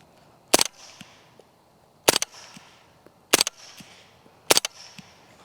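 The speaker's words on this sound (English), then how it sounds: "just listen to this thing, just regular semi-auto into the berm" Four evenly spaced, sharp suppressed 9mm subsonic shots fired semi-auto into a dirt berm, each a short crack with a faint metallic ping and brief tail, no talking.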